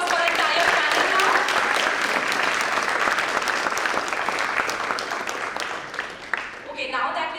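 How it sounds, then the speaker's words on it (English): A large audience at a corporate leadership event gives a panel a big round of applause, full and loud at first, then gradually thinning and fading away toward the end. "Can we give up a huge round of applause for our entire panel now?"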